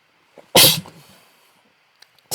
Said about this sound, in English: Fucking sneezed.